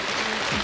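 A comedy concert audience applauds in a brief burst of steady clapping, dense and moderately loud, with no voices standing out.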